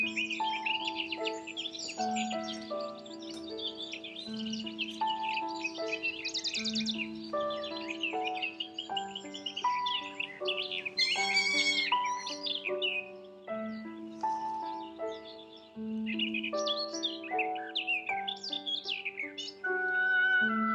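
Recorded cockatoo calls played from a tape, a long run of harsh squawks and shrill chirps repeating in quick, uneven bursts, loud and close with no talking.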